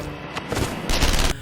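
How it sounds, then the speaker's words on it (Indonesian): Gunfire ringing out as a team moves into an empty warehouse in a film scene, a short burst of several loud close cracks with booming low end. "sebuah tembakan langsung melesat"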